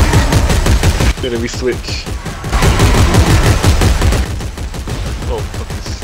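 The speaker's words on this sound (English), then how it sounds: "one guy shoot the fucking gun, other guy shoot the shotgun" In the Dead Space 3 video game, loud rapid gunfire pounds continuously, with heavier shotgun-like blasts mixed into the barrage and a voice talking briefly over it.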